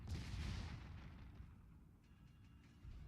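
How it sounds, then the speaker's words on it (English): Naval ship guns firing in the World of Warships video game while the player's ship slows down and shoots at a cruiser behind it; heavy, low booming rumble that stays loud and sustained throughout. "I slow down, put some shots into the cruiser behind me"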